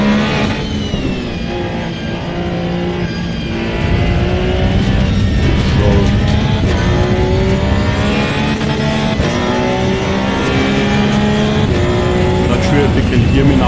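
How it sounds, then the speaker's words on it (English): Race car engine in the Assetto Corsa EVO sim on the Nordschleife, a loud continuous drone climbing and dropping through gears with shifting revs, steady and close, under occasional talk. "If you can hear me now with the engine noise"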